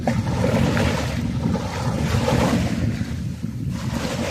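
Sea waves washing in at a village seashore while the tide rises, a continuous loud rushing surge with strong wind buffeting the microphone, heard close and without speech.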